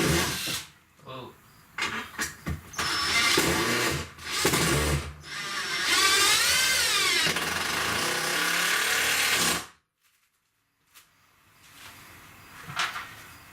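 A power drill drives screws into a tiny house ceiling: loud whirring bursts with a rising-falling whine, stopping and restarting several times, then a quiet pause with faint clatter.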